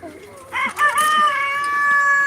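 A rooster crows loudly and close by, a long drawn-out call among clucking chickens in a farmyard.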